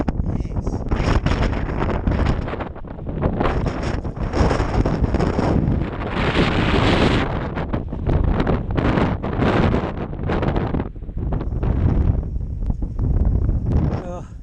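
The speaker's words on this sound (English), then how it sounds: "Do you notice that wind got up when we started to break?" Strong wind buffets the microphone outdoors in the Cairngorms during a cold electric-bike ride, a loud continuous roaring rumble with gusts swelling and easing throughout, with people talking partly masked beneath it.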